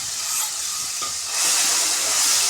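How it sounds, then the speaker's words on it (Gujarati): Onions sauté in a pan for a Gujarati sev usal, giving a steady broad hiss and sizzle that swells louder partway through, close by and without talk. "ડુંગળીને થોડી વાર આપણે સાતળવા દઈશું"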